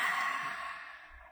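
Long, soft exhalation during a guided breathing exercise in a short stretching class, a single breathy sigh that fades away over about a second, close and quiet with no talk.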